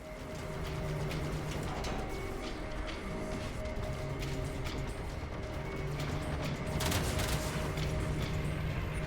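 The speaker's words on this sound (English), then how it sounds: "Torpedoes locked. Target in range." Railjack torpedoes fire in the space combat game Warframe, a dense continuous barrage of crackling blasts and impacts over a droning engine hum, with one sharper burst near the end.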